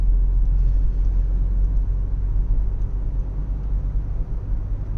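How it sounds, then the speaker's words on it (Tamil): A 2025 Maruti Baleno accelerates to overtake from about 50 km/h, giving a steady, loud low engine and road rumble heard from inside the cabin that holds a constant level without any break. "லாங் ப்ரெஸ் பண்ணால் அப்படியே வண்டி ஏறுது பாருங்கள்"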